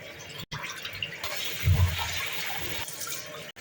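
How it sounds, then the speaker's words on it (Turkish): Dry lentils being washed under running water in a kitchen, a steady splashing rinse with a louder low swirl midway, no talk. "Mercimeğimizi koyuyoruz. Bir güzel yıkayalım."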